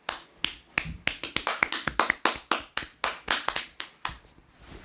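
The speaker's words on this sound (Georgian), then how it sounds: "აპლოდისმენტები" Applause in the Roblox Squid Game video game, a quick run of sharp, evenly spaced claps, close and clear with nothing else over them.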